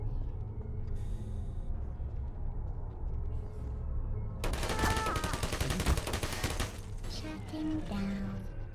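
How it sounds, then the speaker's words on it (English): Automated machine turrets in the video game Portal fire a rapid, dense burst of gunshots that starts abruptly partway through. It plays over quiet ambient game sound, with faint electronic tones around it. "by God did I love the little machine turrets in this game"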